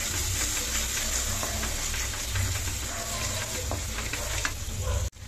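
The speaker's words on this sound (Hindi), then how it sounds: "अब इसको भी कुछ सेकंड के लिए भून लेते हैं" Onion fries in a curry masala for a pasanda gravy, giving a continuous dense sizzle with light stirring clatter close by, ending in a sudden cut-off.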